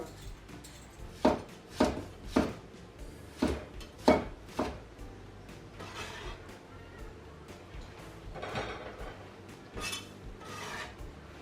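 A knife finely chops tomatoes on a cutting board for a tomato and egg soup: five or six crisp, evenly spaced chops up close, then softer scraping and rustling.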